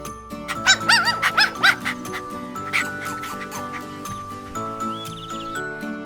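A dog barks several times in a quick burst, then once more, over a continuous musical background.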